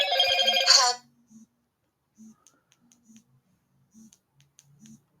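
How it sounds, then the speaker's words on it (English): A mobile phone rings loudly with a bright electronic ringtone burst for about a second, then cuts off, leaving faint clicks and quiet sounds afterward. "Sorry, my phone keeps ringing."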